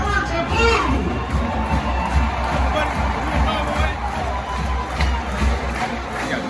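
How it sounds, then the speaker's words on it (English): Gators fans fill the room with loud, steady cheering and shouting, a dense crowd roar with young voices mixed in that carries on without a break throughout. "Gators, have your feet and cheer for the orange and blue!"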